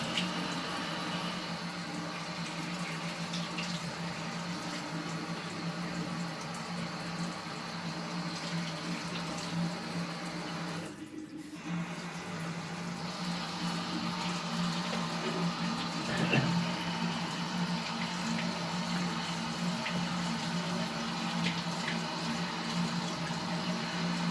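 Hot water runs steadily from an electric shower under repair, a continuous rushing hiss that briefly dips near the middle before carrying on.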